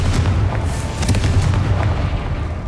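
Confringo blasting-curse explosions in Hogwarts Legacy burst in rapid succession, loud and dense, forming a continuous booming roar of game combat effects that fills the whole moment, with no voices.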